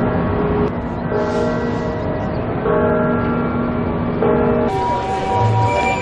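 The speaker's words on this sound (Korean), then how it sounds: "교회 종소리" Church bells ring out over a Mexico City street, several sustained, overlapping tones sounding together against a steady bed of city noise, fairly loud and continuous throughout.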